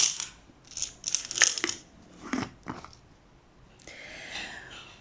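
Small euro cent coins are dropped into piggy banks close by, making irregular bursts of metallic clinking and rattling over about five seconds, ending in a softer rustling shake.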